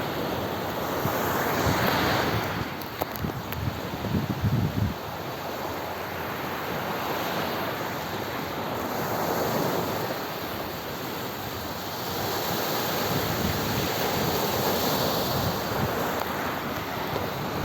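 Rough wind and sea waves roll along the shore by anchored fishing boats, a steady loud wash of surf and gusting wind buffeting the microphone throughout, with no talking.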